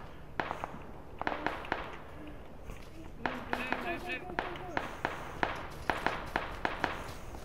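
Scattered sharp blasts from grenades in a video game battle, several distinct bangs spread irregularly across the moment, heard under and between players' talk.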